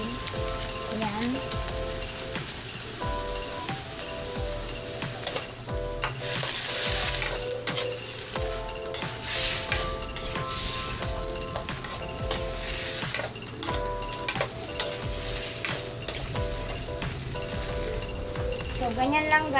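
Spicy seafood with corn stir-fried in a pan gives a continuous sizzle with scraping stirs and utensil clatter, fairly loud and busy, with faint background sounds that may include a voice.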